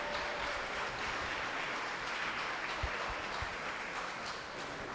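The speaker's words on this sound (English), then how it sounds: "One more round of applause for our maids of honor" Wedding reception guests give the maids of honor another round of applause, a steady dense wash of clapping filling the room throughout.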